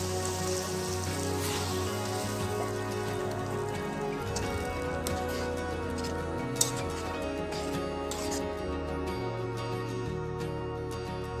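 Hot water goes into spice masala frying in a kadai for shipi aamti, giving a continuous busy hiss and patter like rain, steady and close, over a faint tonal hum.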